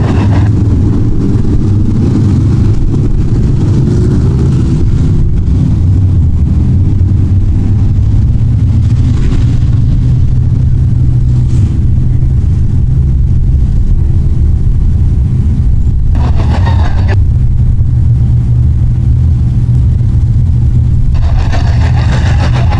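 Modified race cars in a six-lap dirt track heat race: a loud, continuous roar of several engines throughout, with revving swells and passing cars rising near the end.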